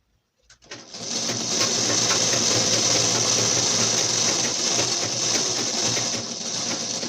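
A sewing machine stitches a fall onto a saree, running steadily and close for several seconds after a brief start, with a dense whirring hum and no talk.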